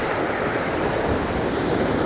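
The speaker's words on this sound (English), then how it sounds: "When the waves go back out, they crash against each other" Ocean waves crash and wash back out, a continuous loud, broad rush of surf with some wind buffeting, close by and steady for a couple of seconds.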